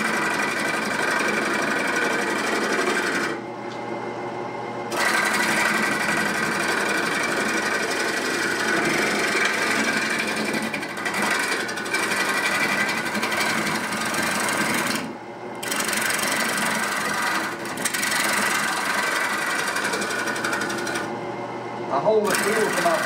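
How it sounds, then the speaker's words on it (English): Wood lathe turning a platter with a scraping cut near dead center, a dense continuous rasping whir broken by several short pauses as the tool lifts off; close and loud. "I'm cutting just about dead center. And it's just a scraping cut."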